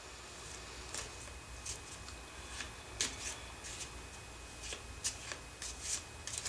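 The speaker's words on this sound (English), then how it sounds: "I'm going to shuffle the cards" A deck of oracle cards is shuffled close up, crisp riffling bursts and soft flicks repeating in quick clusters against a quiet room.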